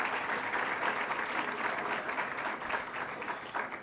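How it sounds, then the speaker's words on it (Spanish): Brisk audience applause at an online talk on social media use rolls on evenly for a few seconds, a dense wash of clapping with slight swells in intensity. "Ahí un fuerte aplauso para Emma."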